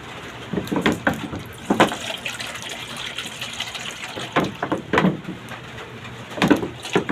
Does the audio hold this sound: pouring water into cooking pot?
yes